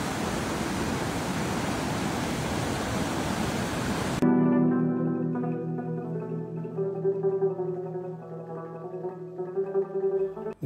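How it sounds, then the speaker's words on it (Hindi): Water of the Panjkora river in Kumrat valley, Pakistan, flows with a steady broad hiss for about four seconds before it cuts abruptly to sustained musical tones. "इसकी ठंडी हवा और साफ पानी का शोर खास फ्रीक्वेंसी के जरिए आपकी थकन को दूर करने में मददगार रहेगा"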